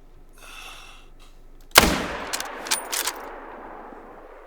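Rifle shot at a caribou in the Call of the Wild hunting video game, Yukon valley setting: one loud, sharp report with a booming tail echoing away, followed by a few fainter thuds and rustles.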